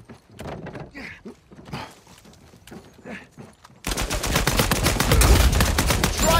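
Video game gunfire rattles in rapid bursts, sparse at first and then a dense, loud, continuous volley near the end.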